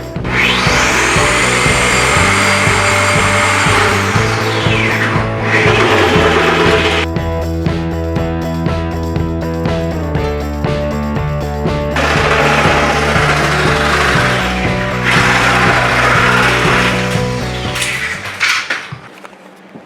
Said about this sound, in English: let's cut our bucket all the way at this lip here